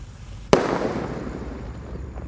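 A jumbo Gold Dragon Rocket firework goes off with one sharp, loud crack, followed by a fading hiss and rumble.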